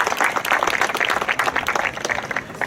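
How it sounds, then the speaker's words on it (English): Audience applause at an outdoor street naming ceremony, a steady wash of many hands clapping throughout, fairly close and loud with no talk over it. "Everybody give him a round of applause."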